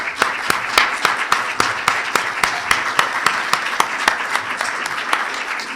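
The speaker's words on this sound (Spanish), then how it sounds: "recibirlo con un fuerte aplauso por parte de nosotros" An audience at a conference on space development applauds a minister with a steady round of clapping, the individual claps standing out in a regular rhythm at an even volume throughout.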